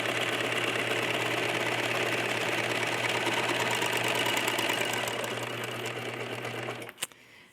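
Sewing machine running continuously to finish the raw edge of flannel fabric, a loud, close, steady mechanical whir with rapid needle stitching that slows near the end, followed by a sharp click and then stops.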